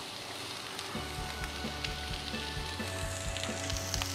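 Onions sizzle and fry in olive oil in a skillet, a steady close crackling hiss with occasional stirring and no talk.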